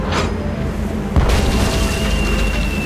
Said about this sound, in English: It's amazing how many of life's problems are solved by indiscriminate cannon fire.